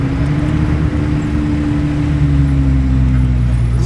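A Lamborghini SV supercar engine gives a loud, steady low rumble with a sustained droning tone that rises slightly, continuous throughout and with no talk over it.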